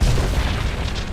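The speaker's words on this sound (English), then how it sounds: "Beautiful explosion." A deep, rumbling in-game explosion from Star Wars: The Old Republic booms loudly and rolls on with crackling debris across the whole stretch.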